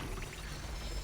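In Genshin Impact, the traveler sprouts a short spurt of water: a faint, brief pouring splash over quiet background.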